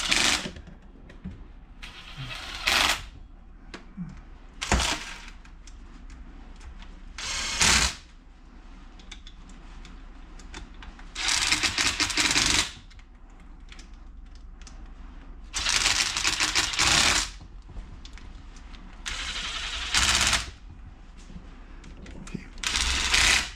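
Screws are run down in a crisscross pattern on bare two-stroke engine cases during assembly, and the tool gives bursts of whirring, ratcheting clatter. The bursts are separated by quieter pauses.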